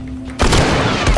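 Gunfire in the video game The Last of Us, a sudden loud burst of shooting with a heavy boom that cuts in after a quieter lead-in and keeps going to the end.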